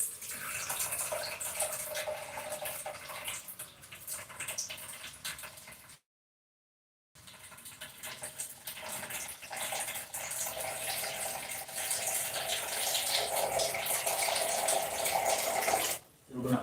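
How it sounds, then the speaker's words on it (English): Water runs from a tap into a pot of unpeeled plantain for boiling, a faint continuous splashing stream with a brief cut in the middle and quiet talk over it. "We're gonna add water to it"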